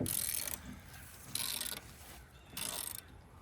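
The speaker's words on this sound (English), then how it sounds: "And then putting pressure on the wrench." A wrench is turned under pressure while fitting door-mounted steps on a Jeep Wrangler JKU, giving three separate bursts of quiet ratcheting clicks with short pauses between them.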